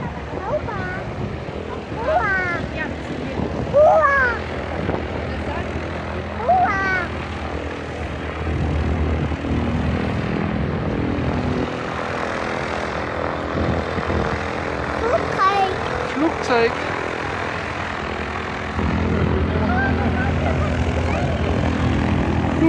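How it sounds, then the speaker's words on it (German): A propeller airplane engine drones steadily in the background for a long stretch, rising and falling slightly, while several people talk and a voice chatters over it outdoors. "Flugzeug."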